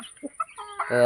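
Chickens cluck in short, scattered calls as they peck at larvae on a farm, closer and louder toward the end, with a faint voice.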